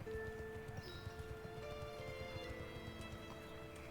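Horse hooves clip-clop in the video game Wallcraft, a quick steady patter of hoofbeats over a sustained background tone, fairly faint and with no talking.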